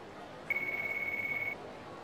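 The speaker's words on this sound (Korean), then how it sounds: "전화 왔네." A mobile phone rings in Yakuza 3 Remastered as a single thin, high, steady electronic tone lasting about a second over a low background hum.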